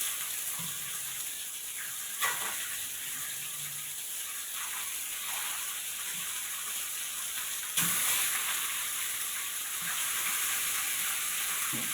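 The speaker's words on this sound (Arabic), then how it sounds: "الفراخ اتشوحت مع البصلايه" Chicken wings sauté with small onion rings in a pan, giving a steady, close hiss of frying that runs throughout with a few faint clinks and stirring bumps.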